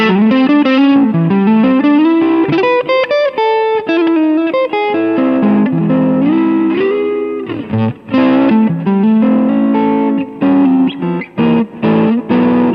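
Electric Stratocaster guitar played through a Dumble Overdrive Special 102 style amp on the neck pickup, with a TC Flashback analog delay and plate reverb, sounding as a loud, sustained melodic line of bent notes and chords with echoing tails.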